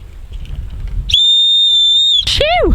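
A survival whistle gives one loud, steady shrill blast lasting about a second, then cuts off into a brief falling squeal, over faint outdoor background noise.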